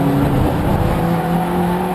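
Jim Benson's number 59 BMW Compact Cup race car, heard on board during a 2014 race at Silverstone International, gives a loud, steady engine drone with sustained tonal whine throughout and no voices.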